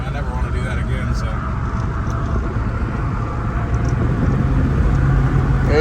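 A Chevrolet TrailBlazer SS on its first drive, with a steady, loud engine and road rumble continuing under the whole stretch and a voice talking over it.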